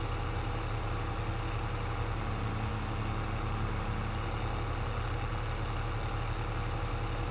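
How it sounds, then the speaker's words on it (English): A tractor engine in Farming Simulator 22 labours at full power hauling a heavy load of logs, a steady low droning rumble that holds without letup, loud and close. "Tractor is not happy."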